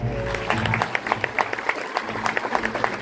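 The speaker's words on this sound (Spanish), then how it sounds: "el aplauso para la música del barro" An audience claps for a live Andean folk music performance, rhythmic, fairly loud clapping following a fading musical note, with faint voices in the crowd.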